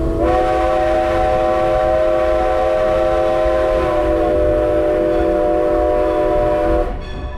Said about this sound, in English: We took a 45-minute train ride from Ronks to Paradise and back.